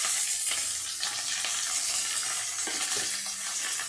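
Onions with mustard seeds, dried chillies, crushed garlic and curry leaves sautéing in a hot pan, a steady dense sizzle with stirring scrapes, close and continuous, no talk.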